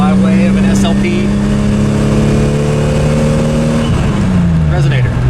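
A 2JZ-GTE Aristo-swapped MKIII Toyota Supra engine revving loudly through a full 3-inch stainless exhaust with an SLP resonator and epoxy muffler, a steady rising drone that climbs then drops as the revs fall, with a voice speaking over it.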